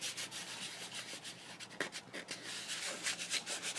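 Coarse sea salt crystals are scraped off a watercolor painting, producing a dry, gritty rasping in quick repeated strokes, close and fairly quiet.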